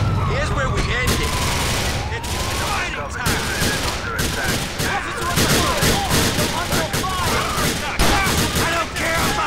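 Dense, loud gunfire in GTA IV The Lost and Damned, with rapid overlapping shots and bursts filling the whole stretch, ending in a headshot, a voice occasionally audible beneath the shooting.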